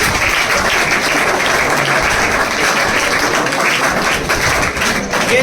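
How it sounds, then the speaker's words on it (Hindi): Dense, loud applause from a ceremony audience honoring fourteen young people selected as Agniveer army recruits, steady and unbroken throughout with no voices standing out. "ताली हो जाए भाई।"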